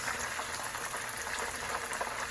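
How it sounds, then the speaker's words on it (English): Steady crackling sizzle of chicken wings frying in hot oil, a dense bubbling hiss with no voices. "So the chicken has been frying for about 10 minutes."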